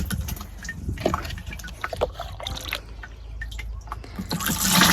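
A liquid fertilizer solution mixed with water trickles and splashes as it is poured into a garden sprayer outdoors, with uneven gurgling close by that swells louder toward the end.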